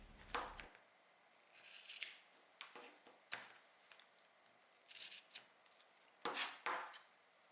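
Scissors make a series of quiet, crisp snips while trimming the side edges of a fabric zipper end tab to match the zipper width, with short cuts spaced irregularly close by.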